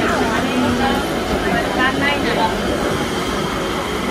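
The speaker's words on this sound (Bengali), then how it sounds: "রানাঘাটে দুদিকে দুটো ট্রেন দাঁড়িয়েছে, এটা হচ্ছে গ্যালোপিন আর এইটা হচ্ছে গ্যালোপিন নয়।" Trains waiting at Ranaghat railway station: a steady, loud rumble of rail and station noise runs throughout, with voices talking faintly beneath it.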